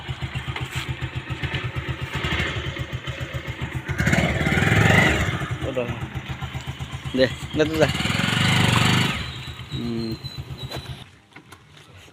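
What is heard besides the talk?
scooter engine running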